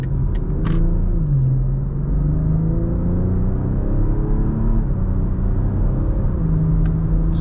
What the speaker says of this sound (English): Let's say you're just turning out into traffic. Just wanna accelerate just kind of quickly.